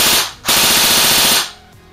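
A Bravo Airsoft AKS74U AEG fires a loud full-auto burst of about one second, a rapid steady rattle of shots up close after a brief single shot, then falls quiet.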